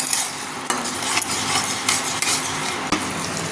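Fish gravy with onions stirred in a pan on an induction cooktop, a spoon scraping the metal repeatedly in short strokes over a steady low sizzle, close and fairly loud with no talking.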